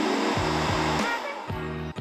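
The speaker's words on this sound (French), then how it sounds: "On va mixer à la pleine puissance." A blender mixing a mushroom cream at full power gives a steady, high motor whine with a few brief dips and surges as the blades churn the thick mixture.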